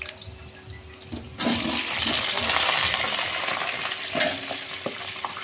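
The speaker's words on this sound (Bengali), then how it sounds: "এখানে আলুগুলো দিয়ে দিচ্ছি" A quiet room gives way to a sudden loud burst of sizzling as potatoes drop into hot white oil, the frying then holding as a strong, steady hiss and crackle.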